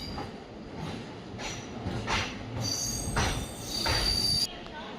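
A passenger train rolls to a stop at platform 4 of Mysore station. Wheels squeal in repeated high screeches over a low rumble and clatter of the carriages, loud and close.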